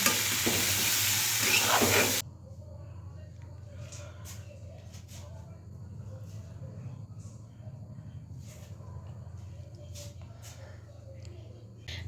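Vegetable bhaji frying in a pan in a home kitchen, a loud burst of sizzle at first, then a soft low sizzle with scattered light clicks and scrapes of stirring for the rest of the stretch.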